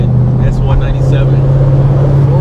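A race red 2013 Ford Mustang S197 pulling away fast on a street, a loud, close, steady low engine drone with someone talking over it the whole time.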